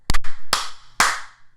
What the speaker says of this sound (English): All right, clap now.